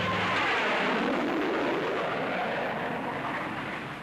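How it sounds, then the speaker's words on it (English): American military aircraft bombing North Vietnam in 1964, heard as a continuous roaring, rumbling wash of jet noise and distant explosions that slowly fades toward the end. "For the first time, American aircraft bombed North Vietnam."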